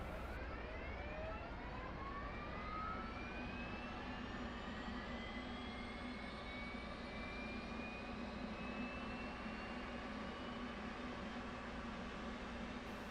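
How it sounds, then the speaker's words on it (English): An F/A-18 auxiliary power unit spins up in a flight simulator, a rising turbine whine climbing steadily in pitch over a constant loud rumbling roar for about thirteen seconds, with no speech. "Let's go ahead and start our APU."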